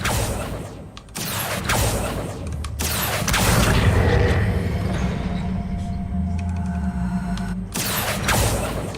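Spell effects in the Hogwarts Legacy video game, a loud rumbling boom-like magical burst sustained for several seconds, framed by short whooshing and crackling hits.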